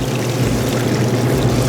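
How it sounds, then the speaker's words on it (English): A gallon of water poured from a container into a bucket of turkey brine, a steady close gush that runs unbroken from start to finish without any talking. "now that I've got another gallon of water in here, I'm just going to dump it in to be able to submerge this turkey"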